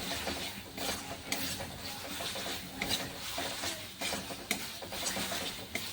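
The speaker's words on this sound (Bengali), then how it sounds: "এরকমভাবে তেল ছাড়া পর্যন্ত ভালোভাবে ভেজে নিতে হবে আপনাদের।" Poppy seed paste frying in a pan with oil, a soft sizzle under repeated scraping and stirring strokes of a utensil against the pan's surface, fairly quiet throughout.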